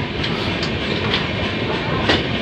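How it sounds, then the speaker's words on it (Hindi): A passenger train pulls out of Morena Junction, its steady rolling rumble and wheel clatter filling the space continuously and close by, with faint rhythmic clicks over the rail joints. "हमारी ट्रेन मुरैना जंक्शन से निकल चुकी है"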